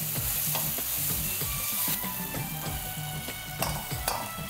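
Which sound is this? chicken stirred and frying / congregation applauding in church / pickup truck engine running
chicken stirred and frying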